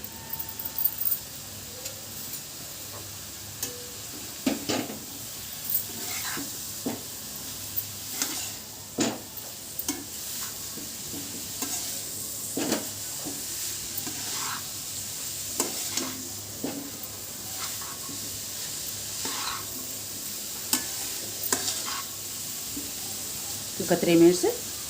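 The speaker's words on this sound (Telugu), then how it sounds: "ఒక 3 మినిట్స్ వరకు వేయించుకోవాలండి నేతిలో" Grated carrot fries in ghee for carrot halwa, a low, soft sizzle with repeated scraping stirs of a spoon against the pan, heard under a person talking.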